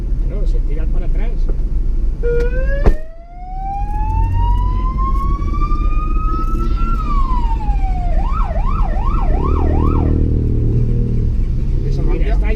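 Ambulance siren rising in pitch, then switching to a rapid warbling yelp, loud and close over steady traffic rumble at a motorcycle race event in Cheste, Spain, with a sharp thump early on.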